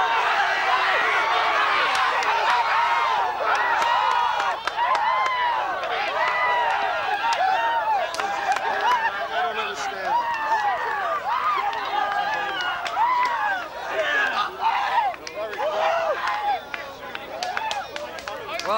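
Spectators at a 1983 synagogue league softball game, a dense, loud, unbroken mass of overlapping voices shouting and cheering throughout, with bursts of louder yelling and some clapping.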